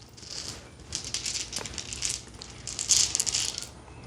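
Dice rattle and clatter in quick, faint bursts, tumbling several times in close succession over a quiet background in a garage podcast setting.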